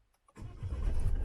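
A Peugeot 3008 1.6 BlueHDI 120 hp diesel from 2017 starts after brief quiet, a short crank giving way to a steady, close low engine idle.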